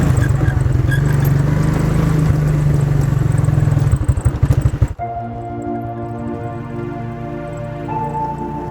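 Electric quad bike being ridden at night, a loud rumbling and clattering drive that cuts off abruptly halfway through, leaving a quieter steady hum with a faint tone.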